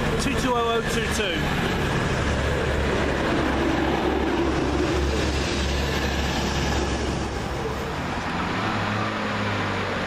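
Chiltern Railways unit 165011 pulls out of Oxford station with a steady diesel rumble and rolling wheel noise. Someone talks over it throughout.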